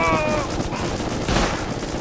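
Gunfire aimed at a garage door during a Rust raid, a dense burst of shots packed together at close range with game noise and a few tonal beeps at the start.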